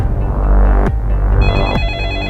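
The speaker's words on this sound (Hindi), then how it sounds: "फोन उठा लो।" A telephone rings with a steady electronic ringtone warble, repeating trill-like pulses over a loud low hum, close and continuous.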